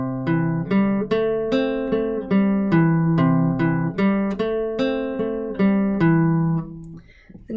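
An acoustic guitar plays a simple song, plucked notes ringing in a steady, repeating pattern, up close and alone, then letting the last chord fade out.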